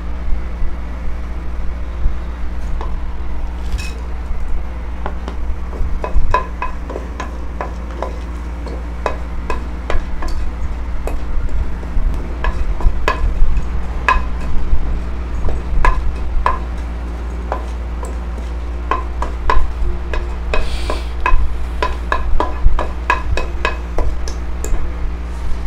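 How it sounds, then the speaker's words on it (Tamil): Whole masala spices going into hot oil for veg kushka, with steady frying noise and a scatter of sharp crackles and spoon clinks against the pan, close and continuous with no talk. "ஆயில் ஹீட் ஆனதும் இந்த மொத்த மசாலாவும் போட்டுடலாம்."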